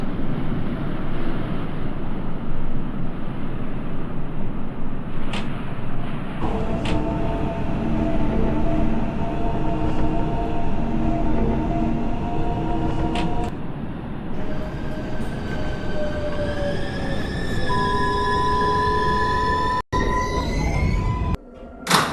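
A New York City R142A subway train running in a simulated game, with a steady rumbling roar and rising and falling motor whines, then a sharp tone near the end.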